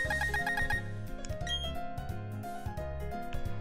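A bright, bell-like purchase chime rings out in a shop in Pokémon Brilliant Diamond, layered over looping, bouncy in-game shop music that continues steadily throughout.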